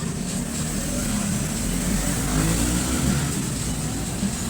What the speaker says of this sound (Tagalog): Tingnan natin yung andar ng spin.